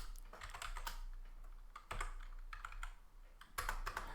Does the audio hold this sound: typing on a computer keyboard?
yes